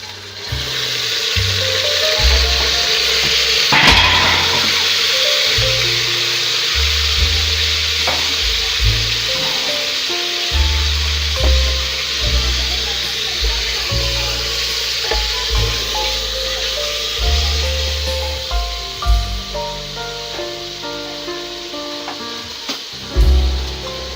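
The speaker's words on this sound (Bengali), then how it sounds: "আমার পেঁয়াজ প্রায় ভাজা হয়ে গেছে। এই পর্যায়ে আমি মাংসটা দিয়ে দেব।" Beef added to nearly fried onions in a pan for a beef curry with potato, giving a loud continuous sizzle with frequent stirring and scraping throughout.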